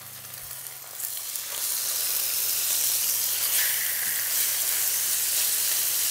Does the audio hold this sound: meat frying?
yes